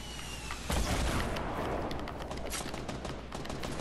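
Dense, continuous gunfire in a 50v50 online shooter match, with rapid overlapping shots and a heavy blast near the start, loud and sustained throughout with no talk.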